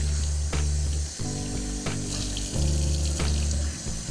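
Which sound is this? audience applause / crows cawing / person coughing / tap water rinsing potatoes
tap water rinsing potatoes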